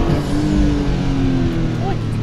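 A modified Toyota GR Corolla with an aftermarket intake runs at light throttle, its engine giving a close, steady, throaty drone with a slight rise in pitch over about two seconds.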